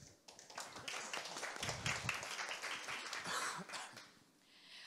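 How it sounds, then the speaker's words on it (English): A small audience at a CES startup pitch event claps, sparse, quiet applause with distinct individual hand claps that thins out toward the end. "Applause, please."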